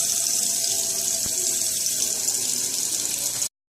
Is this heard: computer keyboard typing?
no